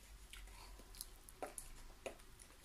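Someone bites into a muesli bar and chews it close up, soft crunchy bites and moist chewing sounds in a quiet room with no talking.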